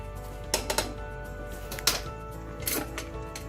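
A spoon scraping and clinking in a pot of kale, carrot, lentil and tamarind stew, with several sharp metallic knocks at irregular intervals over a low steady hiss.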